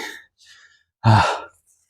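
A person out of breath from spreading dolomite lime beneath durian trees breathes hard. Two faint breathy puffs are followed by one loud, heavy exhale close to the microphone, then silence.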